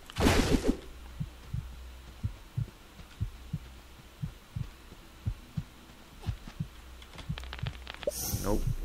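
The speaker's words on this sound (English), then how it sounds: "so I'm not listening to this heartbeat sound the entire time" A steady low heartbeat thumps again and again as the low-health warning in the video game Supraland, clear and close, with brief bursts of other game effects at the start and end and no voices.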